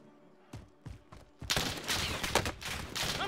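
Video game gunfire in Call of Duty Warzone Battle Royale: a few isolated shots, then a dense, loud burst of rapid automatic fire that keeps crackling without pause.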